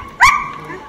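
A single short dog bark, loud and close, rising sharply then trailing off, heard at an outdoor dog reunion gathering.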